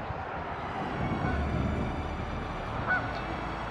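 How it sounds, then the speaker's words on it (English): Geese honking near a river beside a road, a steady chorus of calls carried on strong wind, moderately distant, with constant wind rumble underneath and no talking. "Lots of geese. Kind of right by the road, you can hear the noise."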